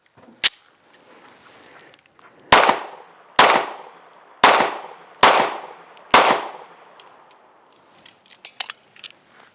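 A Taurus G3 pistol fires hollow point rounds downrange: six sharp, loud, separate shots, one early and five in a steady run, each ringing out briefly, with a few faint clicks afterward.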